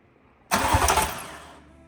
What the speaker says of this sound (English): Now we're going to try to see if it'll crank over.